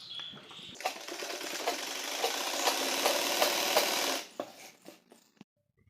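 Sewing machine running a straight stitch along a folded salwar waistband, a steady fast mechanical whir with rhythmic ticking that starts after a click, holds for about three seconds, then stops with a few scattered handling clicks.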